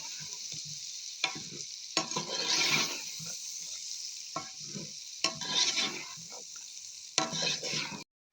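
Boiled macaroni is stirred and fried in a pan. Scraping, sizzling strokes recur in bursts every second or two over a steady hiss, close by and moderately loud.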